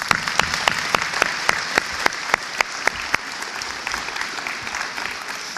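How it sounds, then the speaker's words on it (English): A crowd of parents, family and friends at a 2009 charter academy graduation ceremony gives a big round of applause for the speakers, a dense, sustained clapping with crisp individual claps standing out near the front, fading slightly toward the end. "We owe them a big round of applause."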